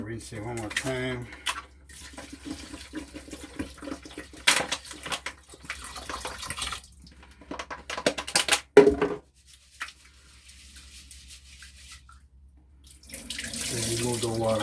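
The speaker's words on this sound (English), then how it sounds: "I rinse it one more time." Tap water runs into a sink while rice is rinsed a second time, a steady mid-level splashing flow with pauses and bursts as the water is poured off, alone without talk.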